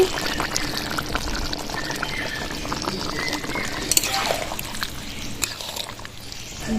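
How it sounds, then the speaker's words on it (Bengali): Ghee poured over a prawn and jackfruit curry, a soft continuous trickling and light bubbling from the pan, fairly quiet and even throughout. "ঘি ছড়িয়ে দিচ্ছি"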